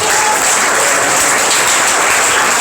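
A church congregation at a Spanish-language service applauds, loud, dense and sustained clapping from a crowd that fills the whole stretch without a break.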